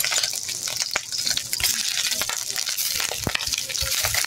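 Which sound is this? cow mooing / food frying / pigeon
food frying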